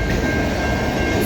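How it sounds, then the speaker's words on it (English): Norfolk Southern 1800 rolls past at a rail crossing on Egerton Street in London, Ontario, its cars giving a loud, close, continuous rumble with a faint steady squeal above. "After this train goes by, I'll be done for the day."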